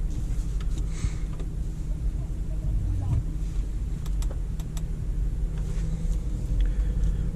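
A 2004 Audi Allroad with the 4.2 V8 rumbles steadily from inside the cabin on a test drive, a deep continuous drone with road and wind noise and no talk over it.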